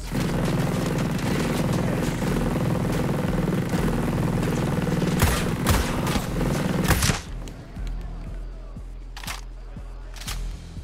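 Combat helicopter battle in the video game Ghost Recon Breakpoint: a dense, loud wash of rotor and engine noise mixed with heavy gunfire and explosions, cutting off sharply midway to a quieter scene broken by a few isolated bangs.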